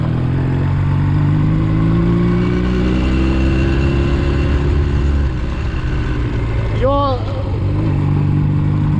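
A motorcycle engine in second gear revs and drones continuously while someone talks over it, with the pitch rising and falling and a brief whistling squeal near the end.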